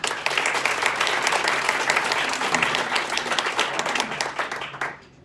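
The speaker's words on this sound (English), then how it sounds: "So give them a round of applause." An audience at a company sales and marketing meeting gives a round of applause, brisk steady clapping that carries on for about five seconds and then stops abruptly.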